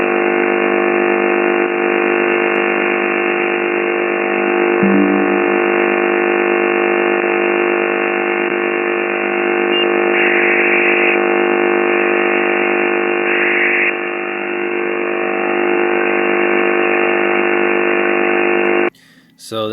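A harsh, steady buzzing tone from the shortwave station known as the Buzzer drones on loudly and continuously, rich in harmonics with slight wavering, before cutting off abruptly at the end.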